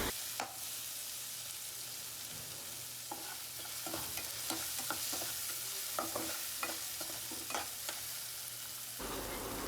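Poha tossed with turmeric and chili in a hot pan, a steady hiss of frying under repeated scraping stirs that tap and clack at irregular intervals, ending in a louder scrape.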